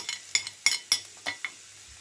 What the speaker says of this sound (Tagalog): Maglagay ng oil sa pan. Igisa ang bawang at sibuyas.